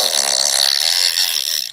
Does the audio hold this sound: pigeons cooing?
no